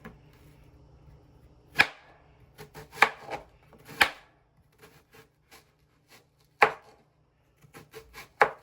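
A knife chops red and yellow onions on a cutting board for a seafood sauce, with sharp, isolated knocks spaced irregularly, some in quick doubles, separated by near silence.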